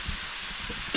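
Steady sizzling and hissing of fish frying in hot oil, a continuous bright crackle with no voices.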